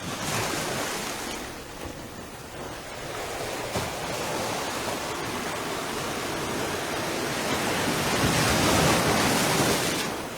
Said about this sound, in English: Big swells coming through, so I've got to time this right because you can see there's lots of splashing going on